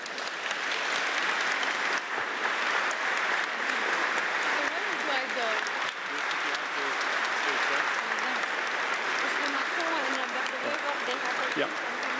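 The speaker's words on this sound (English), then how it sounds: "Please give them an applause." Sustained applause from a large audience welcoming the President of France and the Prime Minister of Belgium at an EU leaders' industry event in Antwerp, a dense steady roar of clapping with some cheering, continuing loudly throughout.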